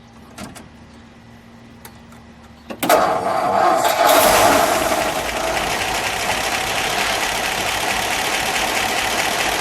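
A 1954 Ford Crestline Victoria engine cranks briefly, catches and roars to life, then settles into a steady, loud idle close by.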